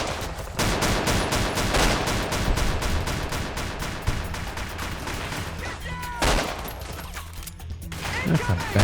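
Dense, rapid gunfire rattles in the video game Fallout New Vegas, loud bursts of shots running almost continuously with brief gaps between volleys.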